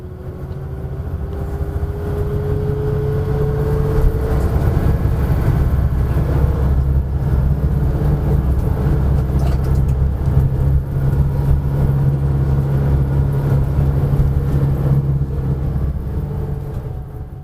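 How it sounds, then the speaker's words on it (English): Bus engine droning steadily as the bus climbs a mountain road toward Alishan in Taiwan, a constant loud low rumble with road and wind noise throughout, no talking. "During the bus ride, as the bus climbed the mountain, approaching nearer towards Alishan"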